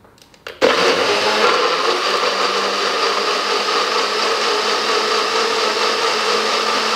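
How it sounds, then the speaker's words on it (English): A blender purees satay sauce in a kitchen, starting abruptly after a brief quiet moment and then running as a steady, loud, continuous whir with no talking. "let's see how good this looks when it's blended."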